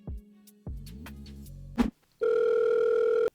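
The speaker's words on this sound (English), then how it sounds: "why don't we just give Andrew Tate a quick phone call and ask him to his face?" A telephone sounds for a call: a few short electronic beeps and tones, then a sustained, loud ringing tone near the end, with no talking.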